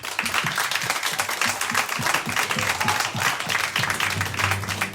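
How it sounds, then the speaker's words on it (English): Concert audience applauding steadily, a dense wash of clapping throughout, moderately loud and continuous with no talk over it. "Have a round of applause, please."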